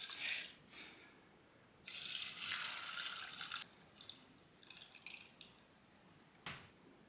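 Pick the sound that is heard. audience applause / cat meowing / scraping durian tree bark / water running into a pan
water running into a pan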